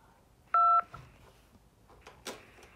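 A single short two-tone telephone keypad beep sounds during an automated call to the San Diego Great Plates Program line, clear and close against a quiet background.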